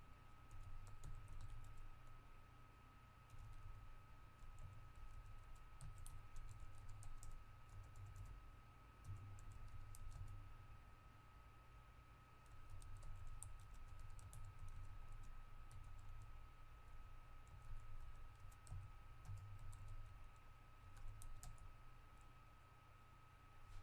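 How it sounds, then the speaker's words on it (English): Steady typing on a computer keyboard, a new keyboard still being learned, with clusters of quick clicks over a constant hum and faint background noise, no talk. "Sorry, I'm getting used to a new keyboard if you guys can't tell."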